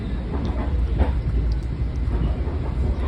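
An M3 commuter train rolls past in a steady, heavy rumble with faint rhythmic clatter from the wheels, close and continuous for a few seconds.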